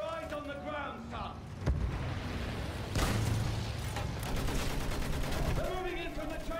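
Machine gun fire rattles in rapid bursts during a Battlefield campaign battle, with sharp shots and blasts mixed into dense combat noise and brief shouted voices.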